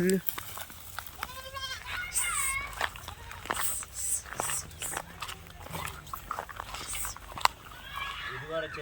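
Goats bleat nearby in a few quavering calls, mixed with people talking over them and some rustling and knocks.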